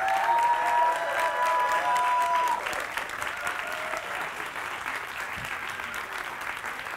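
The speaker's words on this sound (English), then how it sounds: "can we give all 10 a richly deserved round of applause" A science-communication semi-final audience applauds its ten contestants with sustained clapping and light cheering, loudest at the start, with a tonal hum fading out partway through.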